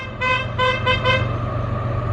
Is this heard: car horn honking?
yes